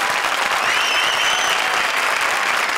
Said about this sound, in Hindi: हमारी चारों भूतिया जोड़ी के लिए जोरदार तालियां